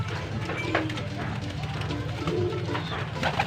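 A homing pigeon cooing close by in low, throaty calls mixed with someone talking steadily over it and light background noise.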